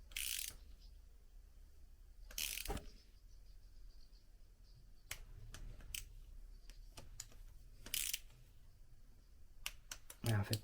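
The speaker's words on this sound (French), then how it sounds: "mettre la bonne clé dessus avec la rallonge et puis tout régler" A wrench fitted with an extension tightens bolts on a Zephir engine casing during reassembly, producing faint scattered metallic clicks and ratcheting ticks at uneven intervals over a quiet background.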